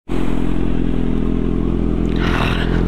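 Motorcycle engine warming up, a close, loud, steady idle with a dense throbbing rumble held for about three seconds, faint clatter late on, no talking.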